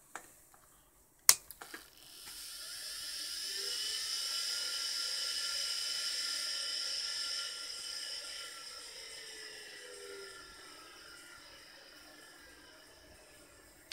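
A Quantum Prodrive ELS SCSI hard drive powered on: a sharp click, then a steady high whine as the platters spin up while the heads fail to unpark, holding a few seconds before tapering off. Close and fairly quiet, with no talk.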